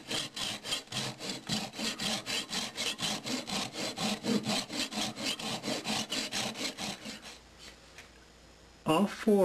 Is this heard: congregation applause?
no